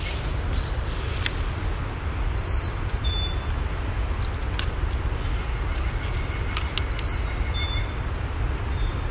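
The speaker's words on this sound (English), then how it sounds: "there are so many birds talking to each other right now." Several birds chirp and call in short bursts in a forest near Sandstone Falls, New River Gorge, over a constant rushing waterfall roar, some calls sharp and high, scattered across the recording.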